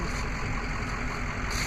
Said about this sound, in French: Il y a un gros track à côté, désolé pour le bruit